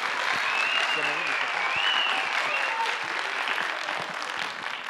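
A school audience at a speaking event applauds loudly, steady clapping from a crowd that carries through the whole moment, with a few faint voices mixed in.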